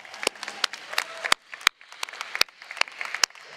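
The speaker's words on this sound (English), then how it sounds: "Let's give them a round of applause." Applause and scattered sharp claps from a conference audience at a large tech event, uneven and moderately close, with bursts rising and falling over a few seconds.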